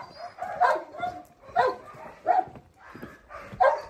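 Dogs in an outdoor spot where strays are being fed give repeated short barks and yips, four or five loud bursts at a steady pace, close to the listener, with faint background noise between them.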